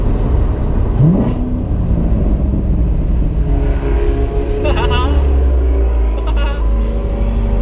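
A Toyota Camry engine revs up and falls during a four-gear downshift, a loud close whine rising and dropping, with voices over it.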